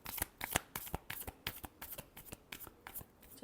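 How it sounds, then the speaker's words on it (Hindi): Tarot cards being shuffled by hand in a quick riffle of sharp, close papery snaps, about a dozen bursts in an uneven rhythm, with no talk. "Last shuffle."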